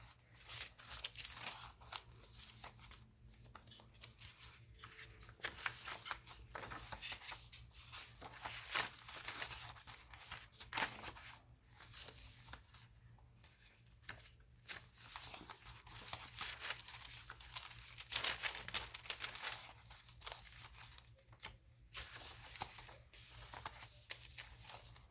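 Rapid papery rustling and flicking as the pages of a handmade Christmas trifold paper journal are turned one after another, crisp close-up crinkles repeating in quick bursts over a faint steady hum.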